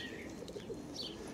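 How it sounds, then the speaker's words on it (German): Pigeons in a dovecote, soft low cooing and faint chirps over a steady outdoor background, heard at a distance. "Wir hören das Gurren der Tauben."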